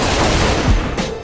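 Dense, loud gunfire in Saints Row 4, a rapid continuous volley with a low boom partway through, no voices.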